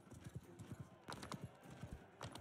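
Horse galloping in the Realm of Thrones video game, with a steady quick clip-clop of hooves at low level and some background game noise.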